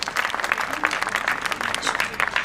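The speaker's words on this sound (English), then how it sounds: "A round of applause for Mr. Ravi as well." Audience applause at a corporate innovation event, a dense steady patter of many hands clapping close by, with a voice speaking over it.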